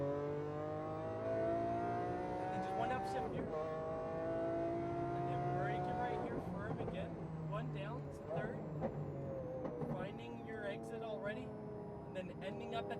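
A Lamborghini Aventador S engine revving hard on a track, rising and falling in pitch through throttle changes and upshifts, heard from the cabin beneath steady instructional talk.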